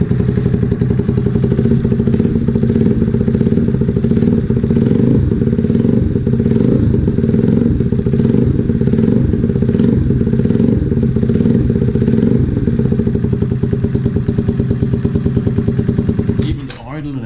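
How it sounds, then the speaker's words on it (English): A motorcycle engine with a newly fitted piston idles close by, a loud, steady, even chugging with rapid regular firing pulses and light mechanical clatter, ending with a brief disturbance before it cuts off. "Listen to that new piston."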